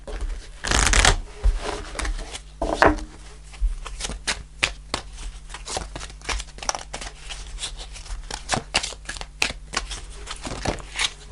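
Tarot cards are shuffled close up in quick riffling bursts and rapid flicks, with an irregular patter of snaps and slides and no talking.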